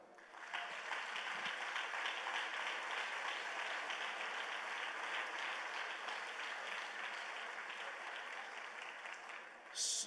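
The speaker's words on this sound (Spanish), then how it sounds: "A ellas un aplauso." A church congregation gives steady, sustained applause for the pastors' wives, a dense wash of clapping that stays loud and even for about ten seconds before a brief burst at the end.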